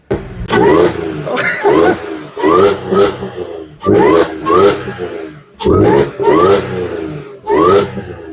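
An Audi S4 with a broken supercharger bypass valve driving and repeatedly revving, the engine rising and falling in roughly six loud surges close to the microphone, each burst cut short between pulls.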